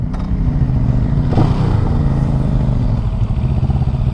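A CF Moto CLX 700 Sport motorcycle engine runs steadily and close, with a deep, continuous rumble and a slight swell partway through, on a group ride at the Americade motorcycle rally.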